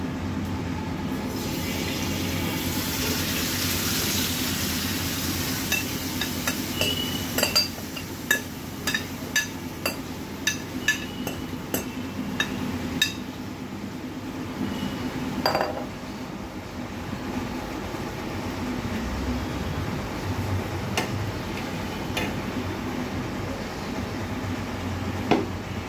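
Marinated oxtail frying in hot oil on a preheated tawa pan, a steady broadband sizzle with scattered crackles and pops throughout, close and continuous.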